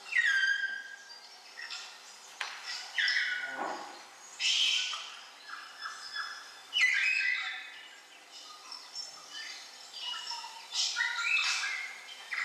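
A lorikeet calls repeatedly in a series of harsh, kaka-like screeches and squawky notes, some rising and falling, spread irregularly across several seconds. It sounds moderately close, and no one talks.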